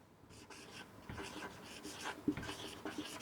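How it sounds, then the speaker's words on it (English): Short, scratchy strokes of writing on a board come one after another in an uneven rhythm, quiet and close, with no talking. "Let me write."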